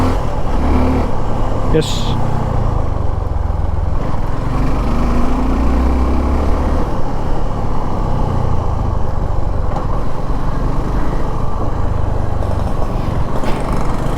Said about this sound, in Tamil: மற்றபடி ரைடிங்கில் ஒன்ஸ் நீங்கள் ரெவ் பண்ணிட்டீங்க அப்படின்னு சொன்னாவே ரொம்ப பட்டர் ஸ்மூத்தாக ஆகிடுது கியர் ஷிஃப்டிங்.